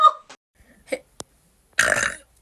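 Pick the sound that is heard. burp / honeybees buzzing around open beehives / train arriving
burp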